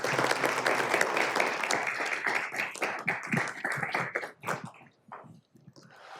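An audience claps to welcome a speaker to the stage at a community talk, steady dense applause that thins out and fades to scattered claps near the end.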